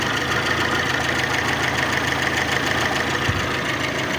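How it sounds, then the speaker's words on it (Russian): A warmed-up VAZ 2112 with a 2111 engine idles steadily at close range, an even, unbroken mechanical hum with no voices. "ВАЗ-2112. Двигатель прогрет до рабочей температуры."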